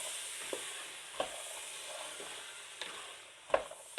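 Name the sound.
chopped carrots cooking in pan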